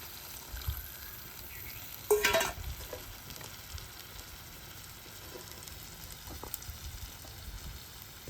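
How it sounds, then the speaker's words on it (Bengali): Soaked paste of ground cumin, turmeric, chili and coriander hits hot oil for chicken kasa, giving a sudden loud burst of sizzle near the start that settles into a low, steady frying hiss with occasional faint clinks. "জিরে গুঁড়ো হলুদ গুঁড়ো লঙ্কা গুঁড়ো ধনে গুঁড়ো এটা একটু জল দিয়ে ভিজিয়ে রেখেছিলাম এবার এটা ঢেলে দিচ্ছি"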